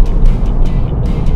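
A 2017 Volvo V90 T5 driving semi-autonomously, heard from inside the cabin as a steady, loud low rumble of engine and road noise, with faint hiss flickering above it and no voices.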